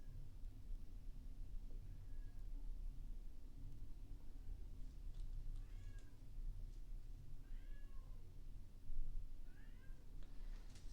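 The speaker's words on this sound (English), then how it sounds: "Now the cat's meowing." A cat meows repeatedly behind a closed bedroom door, several muffled, moderately faint calls spaced a couple of seconds apart over a low background hum.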